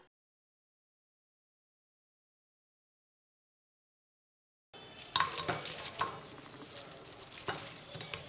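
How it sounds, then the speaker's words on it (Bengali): After several seconds of silence, sizzling oil and the scrape and clatter of a slotted spoon in a wok break in as spinach and potato pakoras are lifted out, with metallic knocks over a steady fry. "এখন আমরা একটা ঝাঁঝরির সাহায্যে পকোড়াগুলো কড়াই থেকে তুলে নিলাম"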